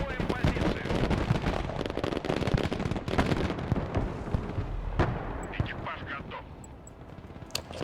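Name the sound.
artillery fire in RTS video game Broken Arrow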